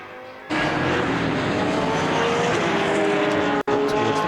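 GT race cars accelerate hard along the track in a GT Cup race, with a loud, sustained engine roar that bursts in abruptly and holds steady, broken once by a brief cut.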